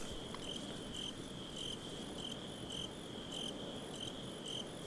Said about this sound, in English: A lot of crickets.